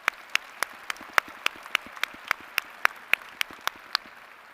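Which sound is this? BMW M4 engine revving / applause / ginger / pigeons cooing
applause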